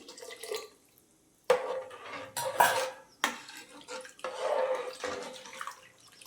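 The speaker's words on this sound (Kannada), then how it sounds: "ಇವಾಗ ಇದಕ್ಕೆ ಹಸಿ ಹಾಲು ಕೂಡ ಸೇರಿಸ್ಕೊಳ್ತಾ ಇದ್ದೀನಿ" Raw milk is poured into a pot for rice bath, making a splashy liquid trickle. Clattering of the pot and utensils comes in several close bursts after a quiet start, with no talking.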